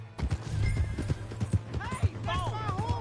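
Hoofbeats clopping and a horse whinnying in a Western-themed Red Dead Redemption scene, steady clip-clop close by with the neigh rising near the end, all under ongoing character talk.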